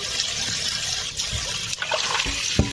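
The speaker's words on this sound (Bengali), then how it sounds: "এটাকে দেখো ভালো করে ধুয়ে নিচ্ছি তো এটাকে কিন্তু তিনবার চারবার করে কিন্তু ধুতে হবে" Helencha greens being washed by hand in water, close splashing and trickling with a few sharper sloshes near the end, no talk.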